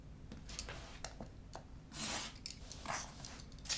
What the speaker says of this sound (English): Here, I'm going to use my scissors because it's a little easier on these tiny curves.